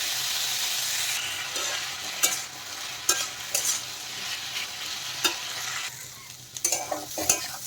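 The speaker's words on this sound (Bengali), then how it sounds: "এখন আমি ভালোভাবে নেড়ে চেড়ে মিশিয়ে দেবো আর আলুটা কিন্তু খুব ভালোভাবে ভেজে নেবো" Potato pieces for a poppy-seed posto are stirred and fried in a pan: a loud, close crackling sizzle broken by several sharp spatula scrapes and knocks, then a quieter hiss between stirs.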